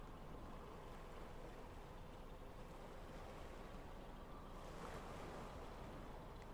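Open-ocean waves in the sea-rescue game Stormworks make a continuous, faint, hissing roar of surf mixed with wind noise. A slightly louder wash swells near the end, and no one speaks.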